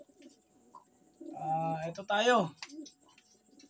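Pigeons cooing during a night feed in a fancier's loft, a couple of throaty warbling coos in the middle with faint chirps, and a brief voice speaking nearby.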